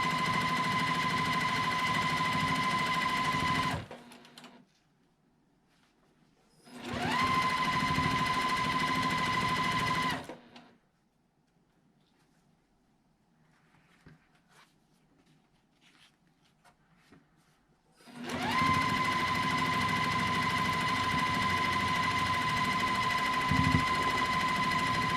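Sewing machine stitching two quilt block halves together, running in three steady bursts of rapid mechanical whirring, each several seconds long, separated by quiet pauses with faint handling sounds.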